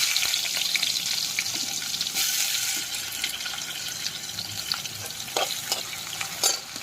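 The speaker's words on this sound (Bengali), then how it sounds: "এবার পেঁয়াজটা দিয়ে দিচ্ছি।" Onions fry in hot oil with whole spices, a soft steady sizzle and crackle with a few sharp pops and spatters, heard alone at moderate volume.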